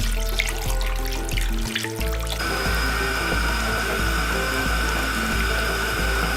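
Water pours into a pot to cover braising short rib seasoned with soy, a steady splashing stream with a brief dip before the flow settles into a fuller, constant gush, heard alone.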